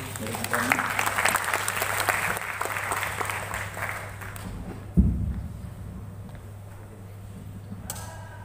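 An audience at an Islamic evening gathering breaks into applause, a steady wash of many hands clapping for several seconds before tapering off, with a brief thump and quieter room noise afterward.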